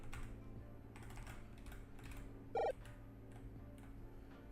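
Soft keystrokes on a computer keyboard during a PICO-8 game coding session, a faint, steady patter of quick clicks with one slightly louder tap midway and no talking.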